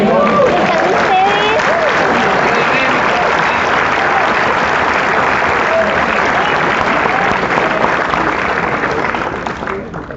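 A church congregation applauds loudly in a sustained, dense wash of clapping. Faint wavering tones from a voice or instrument drift underneath before the applause thins out at the end.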